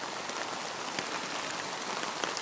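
Steady rain pattering on a slack hiking tarp rigged with prusik cords and a trekking-pole side pullout, a dense, even hiss of drops close overhead with scattered sharper taps.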